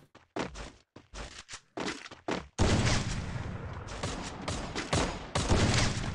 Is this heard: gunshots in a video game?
yes